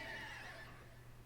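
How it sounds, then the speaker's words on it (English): A horse neigh vocal layer built as a sound effect, given a natural, lightly processed texture: one faint whinny with a sustained, wavering pitch over low hum, fading across the second. "For the horse neighing vocals, I wanted them to sound distinctly different from the caves"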